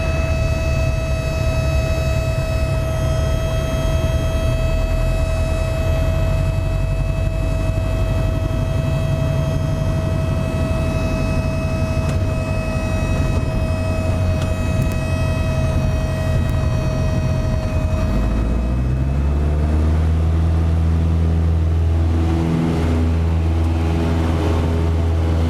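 A Piper Super Cub light aircraft drones steadily in flight while turning final for a touch-and-go, its engine tone constant and loud, then shifting pitch and lowering in the last seconds as power changes.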